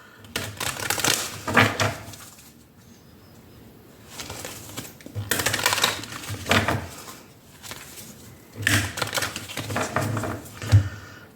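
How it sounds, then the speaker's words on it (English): A Soul's Journey Oracle card deck is shuffled by hand in a few bursts of rapid papery riffling and flicking, separated by short quiet pauses, close and clear with no talking. "Not the best of shuffles."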